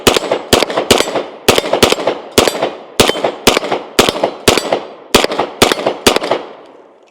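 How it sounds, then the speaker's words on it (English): A Kimber 2K11 Target pistol fires a magazine of 115 grain Remington ammunition, about fifteen loud, sharp shots in quick uneven bursts with short gaps, ringing close by and fading out at the end. "Let's go ahead and fire our last mag through the gun"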